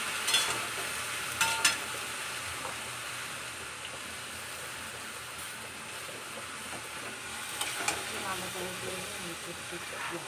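Dried jujube pickle with salt is stirred in a pan, giving a continuous hiss and sizzle with a few sharp scrapes near the start and end, while a voice talks faintly underneath.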